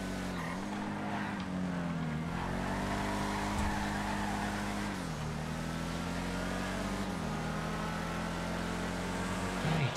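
Omnis race cars screaming around a track in GTA FiveM, with a steady high-revving engine drone that rises and dips through gear changes and corners, tires squealing, and no talking.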